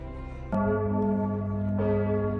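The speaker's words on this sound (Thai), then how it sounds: "ระฆังใหญ่ดังแล้ว 12นาฬิกาตรง" A big church bell in Graz rings at noon, one heavy strike followed by a long humming resonance, then a second strike over the ringing tail, loud and alone without voices.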